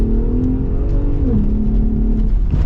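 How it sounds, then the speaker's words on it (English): A 2022 Ram TRX or Ford Raptor truck engine revs steadily at close range, its pitch sliding down then holding, with a few faint exhaust pops near the end. "little pops out of the exhaust sound good"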